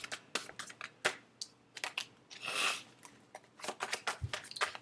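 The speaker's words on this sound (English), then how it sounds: "2 more shuffles" Tarot cards are shuffled by hand in quick, papery riffles and slaps, with short bursts separated by brief pauses and one longer swishing shuffle near the middle, close and fairly quiet.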